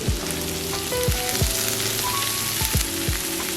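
Bacon sizzles and crackles steadily in a frying pan while cooking bangers and mash, with dense close frying noise and a few low thumps of pan or utensil handling.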